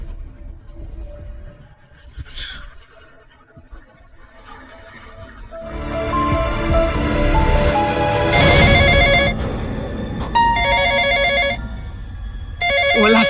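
A phone rings loudly with an electronic, tonal ringtone that swells in after a quieter start and repeats in pulsing bursts, sounding processed and slightly distorted.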